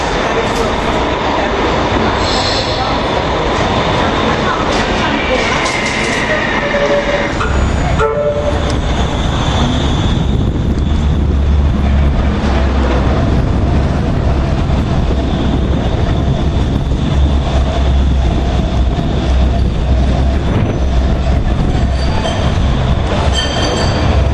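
A Manchester Metrolink tram bound for Bury rumbles loudly nearby at a city-centre stop, wheels squealing and a horn sounding, with a constant heavy rolling roar throughout and a voice briefly heard.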